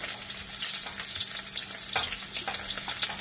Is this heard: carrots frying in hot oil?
yes